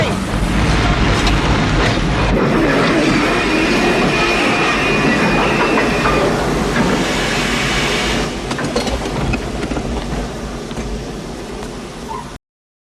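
A train runs loud and close in a film scene, a dense rolling rumble with metallic screeching layered over it and voices shouting over the noise, then ending abruptly.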